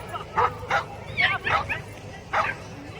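A troubled dog lets out several short yips and whimpering barks in quick succession, fairly close, with a person's voice talking alongside.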